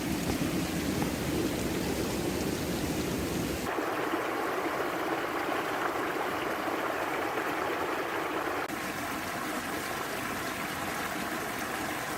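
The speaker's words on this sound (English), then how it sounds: "the water still flowed down Boxer Avenue, sounding like a river through a rainforest" Floodwater pours steadily down a street after rain, like a fast stream, a broad constant wash with no voices and little change in level throughout.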